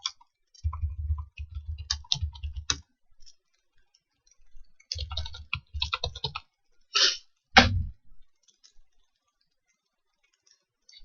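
Keys on a computer keyboard tapped in several quick bursts, separated by pauses, with a few sharper mouse-like clicks, close and fairly quiet in an otherwise silent room.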